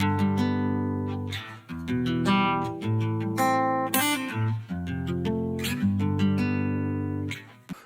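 An African-style acoustic guitar plays a busy, strummed and picked passage with a blend of slightly dry and slightly wet reverb, full and up close, chords ringing continuously for several seconds without any voice.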